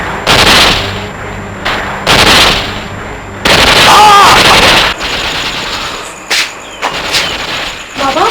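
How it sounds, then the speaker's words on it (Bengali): Gunfire from an attack on a nearby enemy camp, repeated loud bursts of automatic fire in several separate volleys with pauses between them. "বাবা গুলির শব্দ।"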